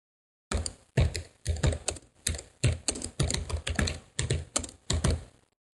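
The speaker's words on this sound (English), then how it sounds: "I'm going to type in my signature" A signature typed out on a computer keyboard while adding text to a photo, short bursts of several firm, close keystrokes separated by brief pauses, loud and distinct against silence.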